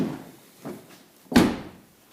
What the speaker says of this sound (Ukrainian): Отак двері плотно закриваються.